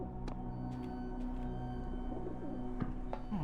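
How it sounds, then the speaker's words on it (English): Pigeons coo softly in The Talos Principle video game, low repeated murmuring calls over a steady ambient hum, with a few faint higher chirps. "Pigeons!"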